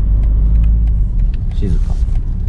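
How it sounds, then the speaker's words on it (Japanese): A 2019 BMW Z4's engine restarts from idle stop with a low, quiet rumble that settles into a soft idle, heard under someone talking. "そしてアイドリングストップからの復帰も"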